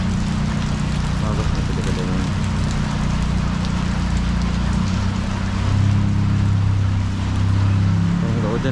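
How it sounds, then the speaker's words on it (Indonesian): Steady rain pours over a street in the town of Pasir Mas, Kelantan, Malaysia, a constant hiss with a low engine-like rumble from traffic underneath that swells briefly near the end. "Udah sampai sini hujan pula."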